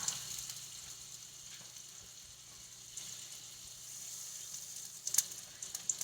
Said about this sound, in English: We're going to drop that right into the pan and get that going.